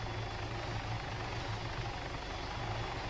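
A helicopter descends to land in the video game Arma 3 Altis Life, its steady rotor thump and engine whine holding at a constant, moderately faint level throughout with no talk.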